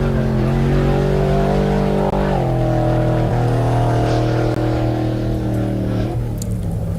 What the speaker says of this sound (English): The truck's still sounding pretty solid